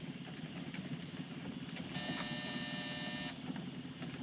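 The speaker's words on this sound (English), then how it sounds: "Hit that buzzer." An electric buzzer in an old 1952 crime film scene sounds once as a steady harmonic buzz for over a second over low engine-like rumble and hum.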